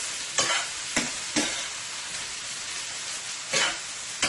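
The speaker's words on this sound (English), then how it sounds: "we are going to let this fry, saute it up nicely for about 2 to 3 minutes" Seasoned chicken frying in a pan for a Caribbean pumpkin-and-chicken dish, a steady loud sizzle broken by five or so sharp scraping stirs at uneven intervals.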